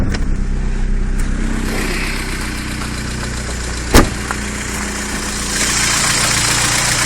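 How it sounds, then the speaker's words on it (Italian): A steady, loud car engine idle rumbles throughout with the hood open, with one brief knock partway through and a slight rise in hiss near the end. No voices. "Questo è il motore."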